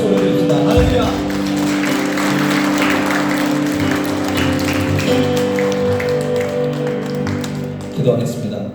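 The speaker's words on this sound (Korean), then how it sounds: "큰 영광의 박수 올려드립니다" A church congregation claps and applauds during a Sunday worship service at Bali Seum Church, the clapping spread across the room and mixed with steady music and a voice throughout.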